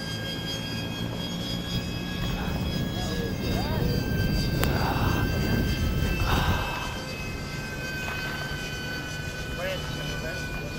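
A Mirage 2000 jet plane roars overhead, swelling to a loud broad rush in the middle and then fading, with people talking and exclaiming over it.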